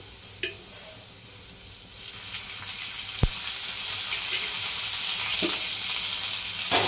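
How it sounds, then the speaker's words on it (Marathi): Chopped onion fries in oil in a pan for a spicy Marathi surmai fish curry. One sharp clink comes early, then a crackling sizzle swells and holds loud and close, broken by another metallic tap. "कांदा हलवून घ्यायचा। तेल टाकून घेते, पळी तेल टाकते मी।"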